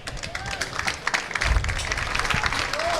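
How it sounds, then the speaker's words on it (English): Crowd at a varsity lacrosse game against IMG applauding, a steady spread of clapping with some cheering, moderately loud and continuous across the short stretch. "Nice round of applause."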